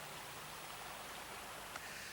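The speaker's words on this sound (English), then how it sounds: "with fresh water continually bubbling up" Fresh water bubbles up continually through the gravel at a trout spawning weir, producing an even, close, rushing wash.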